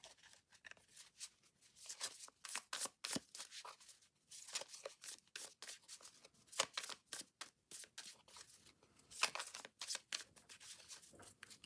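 Tarot cards are shuffled in repeated quick riffles and bursts of papery flicking, close and crisp, with brief pauses between rounds.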